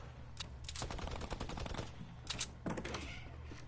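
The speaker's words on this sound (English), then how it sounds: "People are shooting off in the distance." Gunfire from the video game Fortnite pops off in rapid bursts, one long stutter of shots and then a shorter volley, fairly faint and distant.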